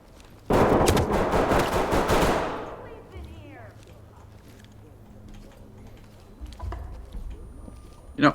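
A loud burst of rapid automatic gunfire erupts in a video game for about two seconds, then fades into quieter ambient game noise with a few scattered later shots.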